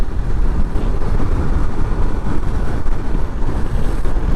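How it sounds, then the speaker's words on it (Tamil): Loud, constant roar of strong wind buffeting the microphone in Ladakh's Nubra Valley between Hunder and Diskit, with rumbling low gusts and no voices. "காற்று பயங்கர ஃபாஸ்ட்டாக அடிக்குதுங்க."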